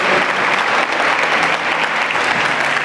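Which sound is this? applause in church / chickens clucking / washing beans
applause in church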